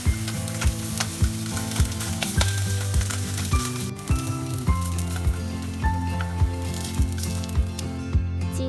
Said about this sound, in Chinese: 鸡蛋和午餐肉煎熟后放一旁备用。